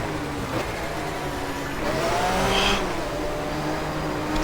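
Engine of a 1994 German touring car in the racing game GTR2 at Diepholz, a steady high-revving drone in sixth gear down the back straight, rising slightly in loudness midway with brief tonal whines.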